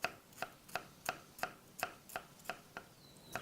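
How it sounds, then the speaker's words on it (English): A knife chopping shallots on a cutting board in an even rhythm, about ten crisp close taps over a few seconds, quiet and without talk. "then you want to just really kind of finely slice them"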